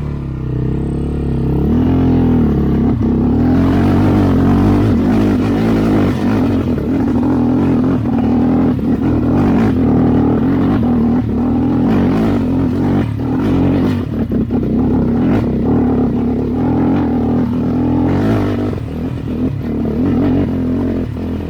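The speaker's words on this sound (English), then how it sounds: "once I get past this, hopefully my four-wheeler will run good enough" Four-wheeler ATV engine climbing a steep trail hill at Phoenix Park near Creede, Colorado, a loud, close, sustained engine drone with rumbling rattles and clatter throughout, holding steady for about twenty seconds.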